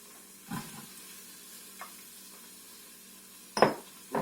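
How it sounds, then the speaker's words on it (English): Chopped celery and carrots are stirred in an Instant Pot, giving a faint, quiet sizzle. A few short scraping clatters of a utensil against the pot come in separate bursts. "We're just going to stir this and let it cook until all that is a little bit softened."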